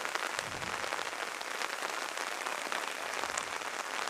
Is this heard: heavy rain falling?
yes